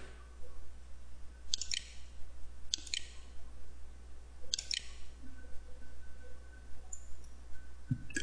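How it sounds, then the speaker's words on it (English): Sharp, dry clicks of a computer mouse button while working in 3ds Max 2008 software, coming in three quick double-click bursts spaced a second or so apart against a quiet background, close and fairly crisp. "you can do all that just by clicking this button right here"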